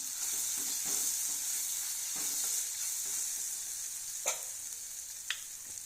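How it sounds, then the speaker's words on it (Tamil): Tomatoes sauté in a pan for prawn masala with a steady, faint bright hiss of frying and occasional soft stirring taps and scrapes. "இதுவும் ரெண்டு நிமிஷம் வதங்கட்டும்"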